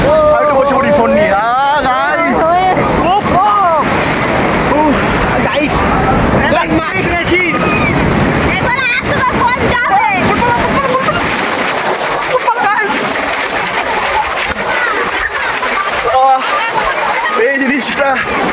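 Ocean waves wash and surge steadily on Puri beach in a loud, close wash of water and wind, with people talking over it throughout.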